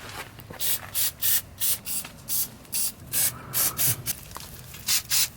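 Short hissing bursts of white lithium grease spray repeat in a quick, regular rhythm, about a dozen in all, applied to a Nissan 350Z's suspension joints, close up with nothing else behind them.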